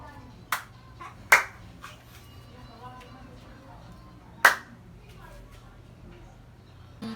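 Hand claps keeping time during a Pinoy aerobics step routine, a few sharp, separate claps spaced irregularly over faint background sound.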